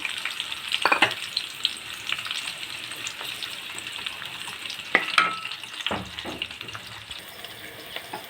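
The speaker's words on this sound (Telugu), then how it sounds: "ముందుగా ఒక కడాయిలో కొద్దిగా నూనె పోసుకొని, ఈ విధానం అంతా సిమ్లోనే చేయాలి, గుర్తుపెట్టుకోండి. మనం కట్ చేసి పెట్టుకున్నాం కదా, ఉల్లిపాయలు వేయాలి" Chopped onions fry in a little oil in a kadai over a low flame, giving a close, continuous crackling sizzle with occasional sharper pops and stirring scrapes, with no talking.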